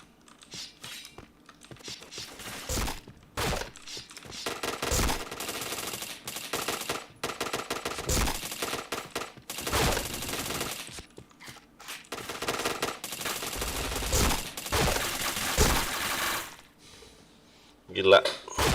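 Video game gunfire comes in rapid automatic bursts and single cracks, dense and loud, with mechanical clicks between volleys, a pause near the end and a final burst; a voice can be heard talking over it.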